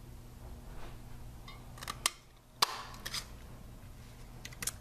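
Scissors trimming a paper banner shorter during card making at a table, a few faint, sharp snips close by in a quiet room.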